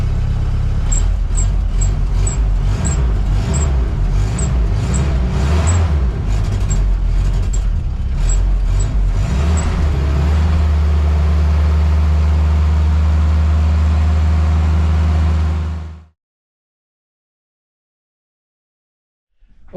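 A Willys MB Jeep engine runs close and loud with a dense low rumble, revving unevenly at first, then settling into a steadier idle before cutting off abruptly into silence.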